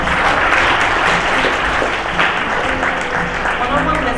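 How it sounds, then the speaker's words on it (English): Applause from a conference audience for the panelists and moderators, a dense, steady wash of clapping that holds loud throughout, with a faint murmur of voices mixed in. "Please give them another big round of applause."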